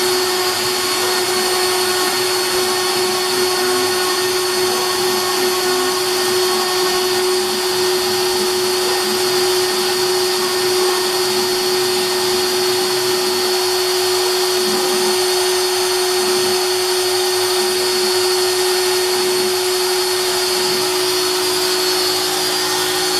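An X-Carve CNC machine carves a board with a loud, unbroken roar and whine that holds steady for the whole stretch. A constant hum sits underneath, and the cutting noise shifts only slightly in texture.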